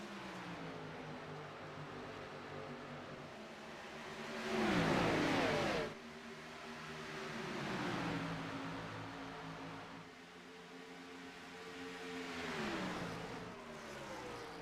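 A field of race cars at Charlotte Motor Speedway in a racing video game roar off at the green flag, overlapping engine notes rising and falling as cars accelerate and sweep past, with a louder surge early on and steady droning after.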